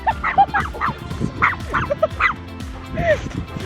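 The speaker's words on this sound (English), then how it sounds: "Teddy, you're going to have to go back on the lead if you keep on standing on chihuahuas" Several dogs, including chihuahuas, yip and bark in quick, excited bursts during a walk, with a few whimpers and a person talking among them.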